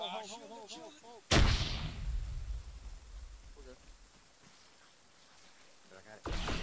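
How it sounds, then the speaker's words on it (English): A thermal detonator explodes in a Star Wars mod of ArmA 3: one loud, close blast with a long rumbling decay, then a second boom at the end, with voices briefly talking before it. "Throw a thermal detonator."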